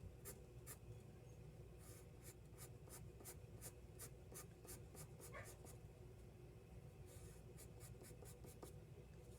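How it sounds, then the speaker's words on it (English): A pencil shading hair on paper with quick bouncing strokes, a steady series of light rhythmic scratches roughly every quarter second, faint and close over a low background hum. "Again, bounce your pencil a little bit"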